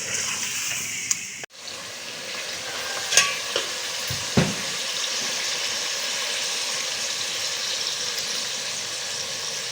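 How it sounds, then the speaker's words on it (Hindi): Chicken pieces frying in a pan for chicken korma, giving a steady, close sizzle with occasional stirring scrapes and clinks, no talk. "वाइट होने तक मैं इसको, चिकन को खूब अच्छी तरह भूनूंगी।"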